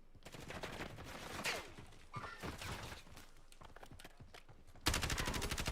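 Rapid gunfire in a video game, with sniper shots among dense bursts of shooting that run steadily throughout, then a sharper, louder volley near the end.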